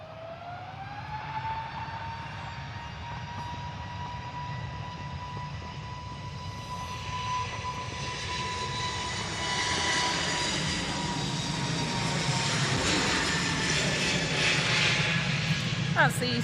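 An EasyJet passenger jet airliner at Manchester Airport makes a steady, continuous engine roar with a rising whine, building slightly louder partway through, with brief talk over it.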